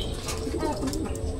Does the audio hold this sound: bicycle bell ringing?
no